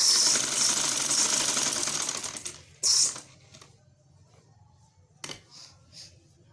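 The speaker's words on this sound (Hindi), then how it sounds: "अब हमने जो सिलाई लगानी है वो इस पेपर के साथ साथ लगानी है" A sewing machine stitches fabric along a paper guide, running as a steady mechanical whir for close to three seconds, then stopping, followed by a few short bursts and clicks.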